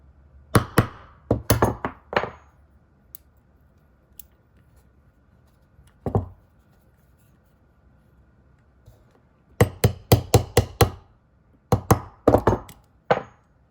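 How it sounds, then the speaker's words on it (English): A small hammer taps a pin into a CZ Shadow 2 pistol during installation of a Cajun Gun Works Pro-package, heard as several clusters of sharp, close metallic taps separated by quiet pauses. "hammer this down"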